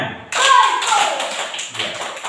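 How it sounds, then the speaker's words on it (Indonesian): Students in an Indonesian classroom clap in response to their teacher, a sudden burst of hand claps that sets in sharply and continues as a dense, slightly uneven patter close to the listener, with faint background voices. "Beri tepuk tangan untuk mereka. Tepuk tangan. Coba tepuk tangan."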